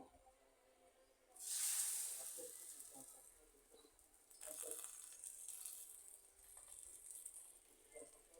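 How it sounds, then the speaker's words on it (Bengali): An egg-dipped paratha drops into hot oil with a sudden loud hiss that fades, then flares again into a steady sizzle that rises and dips, close by with no talking. "তেলটা গরম হয়ে গেল এবার আমি পরোটাটা দিয়ে দিচ্ছি"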